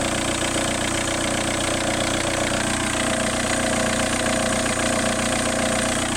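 A Seat Inca van engine runs steadily close by with a whirring top-end noise, a dense continuous mechanical drone with a high whine layered over it and no pauses.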